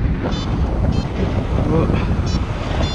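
Strong wind buffets a microphone on a hillside at Devil's Dyke during paragliding, a loud continuous roar with gusty rumbling and faint fluttering.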